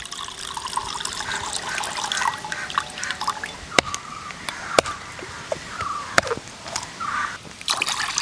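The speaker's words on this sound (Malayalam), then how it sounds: "വെള്ളം നേരെ പാത്രത്തിലേക്ക് ഒഴിച്ചു കൊടുക്കാം" Tender coconut water trickles from the nut into a bowl, making close splashing and scattered drips punctuated by a few sharp clicks, with no talking.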